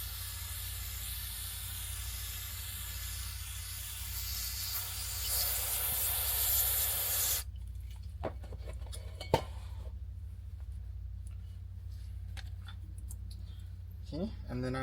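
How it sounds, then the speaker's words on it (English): Bicycle degreaser sprayed onto a bearing and race, a steady close hiss lasting several seconds, then stopping, followed by faint clicks and handling noises against a low background hum. "I'm going to degrease the bearing and the race because there's a lot of gunk"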